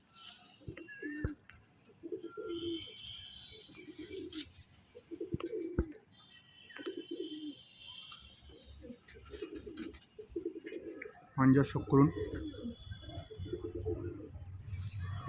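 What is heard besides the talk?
old-bloodline pigeons cooing in a loft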